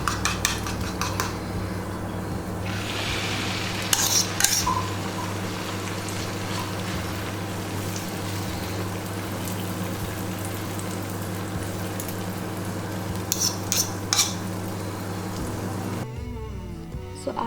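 An omelette cooks in a buttered pan with a soft, steady background sizzle, broken by a few clinks and scrapes of a utensil against the pan, then dropping quiet at the very end.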